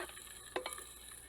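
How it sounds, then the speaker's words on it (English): Black pepper splattering and sizzling in hot oil in a home kitchen pan with cinnamon, cooking for a vegan sprout curry; a faint steady fry hiss with two short crackling bursts close by. "Once you hear the sound of black pepper splattering"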